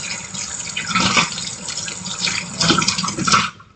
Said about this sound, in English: rinse my whisk off